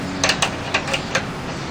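Adjustable wrench working the top nut on a Bilstein front shock of a 2003 Nissan Xterra, giving a handful of short metallic ratcheting clicks at an uneven pace, close by over a steady low hum.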